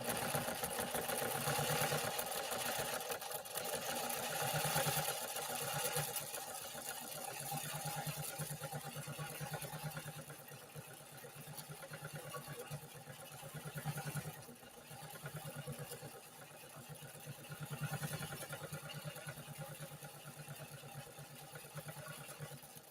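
A 1960 Pfaff 230 sewing machine stitching a decorative pattern, a steady mechanical whir with rhythmic needle chatter that rises and eases slightly in speed, quiet and continuous with no talk.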